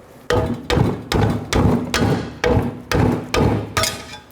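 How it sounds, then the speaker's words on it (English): Nine sharp metallic hammer strikes on a 14mm exhaust manifold nut of a 2006-2012 Toyota RAV4 land in a steady rhythm, each ringing briefly before the next, loud and close with no talking. "I'm gonna see if I can hit it with a hammer"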